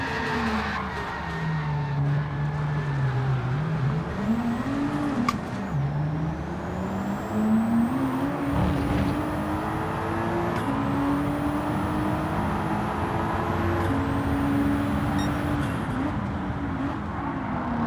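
Racing cars in the video game Gran Turismo 7 during an online lobby race, engines droning and shifting pitch as they accelerate, with tires squealing and skidding at times, a steady loud roar throughout without talk.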